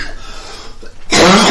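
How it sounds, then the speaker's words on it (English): One person gives a single loud, harsh cough that erupts close to the microphone after a second of quieter ambient noise. "As I cough to death."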